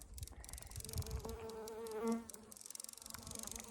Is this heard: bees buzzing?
yes